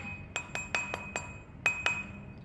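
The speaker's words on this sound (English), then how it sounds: "I really prefer a smooth mandrel, and I'm just gonna hammer it" Light metal hammer blows on a silver bezel ring fitted over a smooth tapered mandrel while shaping a cabochon setting, seven sharp ringing taps spaced unevenly, up close and alone.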